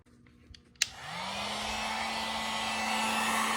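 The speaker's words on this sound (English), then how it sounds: "Using a heat gun on real low heat." A heat gun set on low heat gently warming a rubber bandsaw tire starts with a click and then blows a steady, close, whooshing hum with a faint tonal whine that holds unbroken to the end.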